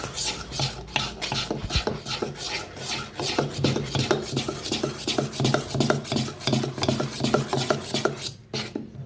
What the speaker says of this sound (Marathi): आता मीठ टाकले, जरा मिक्स करून घेऊया।